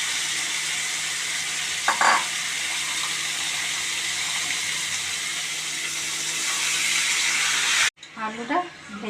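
Chicken hits a pan of onions already fried deep red for chicken kadai, setting off a loud, steady sizzle with a brief stirring scrape partway through, before the sound cuts to a sharper, uneven frying.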